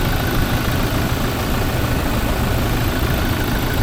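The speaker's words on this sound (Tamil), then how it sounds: "இந்த டொயோட்டா ஸ்டைலில் இன்ஜின் நமக்கு ஆன் ஆகுது" Toyota Hilux 2.5-litre diesel engine idling steadily after start-up, a constant, loud low rumble with broadband noise and no variation over the few seconds, no voices.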